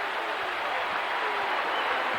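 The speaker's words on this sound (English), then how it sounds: "Now this crowd will roar with every lick." A packed football stadium crowd roars at a 1990 Florida vs Tennessee college game, a dense continuous wash of cheering that stays loud and steady throughout.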